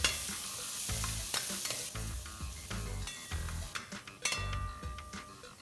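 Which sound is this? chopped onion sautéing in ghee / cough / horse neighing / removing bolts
chopped onion sautéing in ghee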